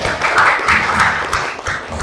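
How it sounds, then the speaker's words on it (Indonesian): A classroom audience at an Indonesian teacher-training session claps together, a steady moderately loud patter of hands with a few stronger accents, with no talking over it. "Boleh tepuk tangannya"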